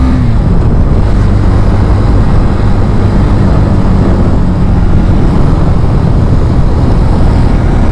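A 2021 KTM 390 Duke motorcycle being ridden, its engine a loud, continuous low rumble blended with heavy wind buffeting throughout.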